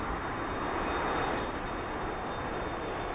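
An F-15EX taxiing in the DCS flight simulator gives a steady, even jet engine roar with a faint high whine, constant and unbroken throughout with no voices.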